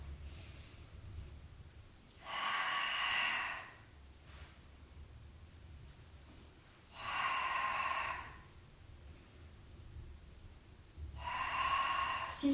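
Heavy breathing during a Pilates exercise: three long, forceful breaths, each lasting about a second and a half and spaced a few seconds apart, close and airy with quiet gaps between.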